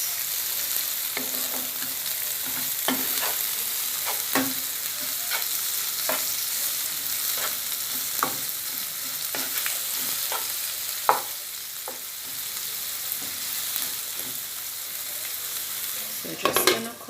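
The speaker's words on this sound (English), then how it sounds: "so I'm just going to stir fry a bit." Mackerel run down in coconut milk stir-fried in a pan, a steady sizzle broken by repeated scraping strokes of a spoon or spatula, close and alone.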